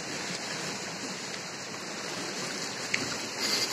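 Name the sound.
rain falling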